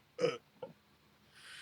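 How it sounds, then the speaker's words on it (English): A single short, deep human burp sounds close but quiet, followed by a smaller trailing grunt and then near-silence. "Sorry, I'm burping."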